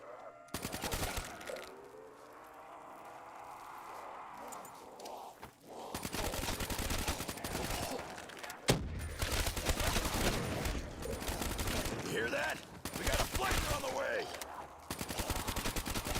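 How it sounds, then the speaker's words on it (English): A napalm wonder weapon fired during a high-round Call of Duty zombies match on Shangri-La, with rapid bursts of loud gunfire and explosive blasts continuing for several seconds amid game noise and occasional talk. "Shooting napalm"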